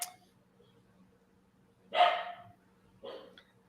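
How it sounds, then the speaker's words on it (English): Dogs at a front door bark faintly in the background, two brief separate barks about a second apart over a quiet room hum. "The dogs are barking."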